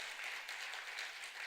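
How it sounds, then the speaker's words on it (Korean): Brief applause from a Korean church congregation welcoming guests, a soft, fairly distant patter of many hands clapping steadily. "우리 한 분 이분들 위해서 박수 한번 할까요?"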